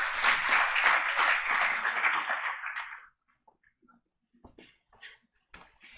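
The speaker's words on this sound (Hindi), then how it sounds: "अभी आपकी जोरदार तालियों के बीच" Applause from an audience at a Jain scholars' seminar, a loud dense burst of clapping for about three seconds that stops abruptly, followed by faint scattered small knocks and handling sounds.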